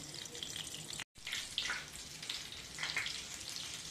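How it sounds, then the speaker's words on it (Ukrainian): Breaded chicken breast cutlets sizzle and crackle steadily in hot oil, a continuous bright hiss with a brief cut near the start. "смажу на розігрітій олії з двох сторін до готовності"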